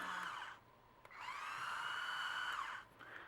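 A Tekhmann TCS-3.61500 cordless screwdriver in normal mode gives a brief whir, then a steady, close motor whine of about two seconds that winds up and spins down, with nobody talking.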